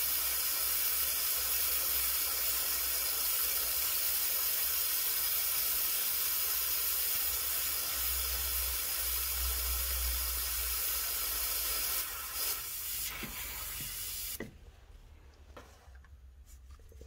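Steady hiss of a freezing aerosol spray on a seized rear brake bolt of an Audi S3 8P for about twelve seconds, then a few clicks and handling noises as it stops.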